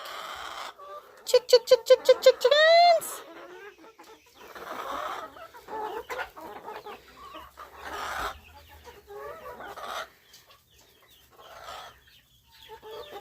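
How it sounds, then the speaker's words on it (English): Chickens cluck and squawk nearby, with a burst of rapid, loud calls early on, followed by scattered softer clucks while a person talks. "Come on, girls. Chick! Chickens!"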